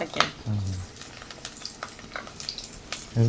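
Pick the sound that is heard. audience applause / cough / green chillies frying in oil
green chillies frying in oil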